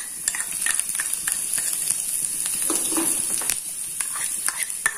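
Garlic and ginger fry in a pan, a steady sizzle broken by repeated scraping and stirring clinks of a utensil against the metal, close and moderately loud with no talking.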